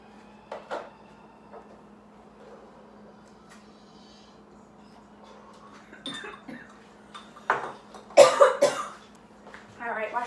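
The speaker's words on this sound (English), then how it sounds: "wash my hands, because I just coughed all over them" A person coughing indoors in a quiet kitchen-like room, a few sharp coughs scattered over the stretch with a louder burst near the end, plus faint clinks and handling noises and a low steady hum.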